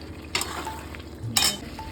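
Potatoes and raw banana being sautéed in a pan for a vegetarian kanchkolar dalna, a low sizzle broken by two short bursts of scraping and stirring.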